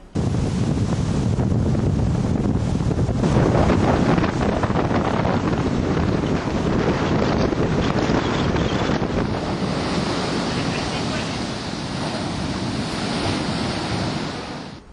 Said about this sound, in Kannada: ಕರಿ 2-3 ವಾರಡು ಜೋರುಡು ಇತ್ತಿನ ಕಡಲ್ದ ಅಬ್ಬರ